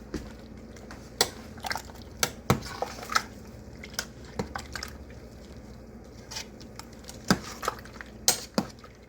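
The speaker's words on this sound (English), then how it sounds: "Now let me stir it up." Garlic cloves stirred in a pot for canned spaghetti sauce from fresh tomatoes, with moist squishing and scattered clinks of the utensil against the pot, close and intermittent.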